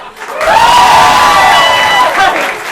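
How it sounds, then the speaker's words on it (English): Audience at a Level 2 showcase performance breaking into loud, steady applause mixed with cheering and whoops, sustained for about two seconds before tapering. "This group round of applause."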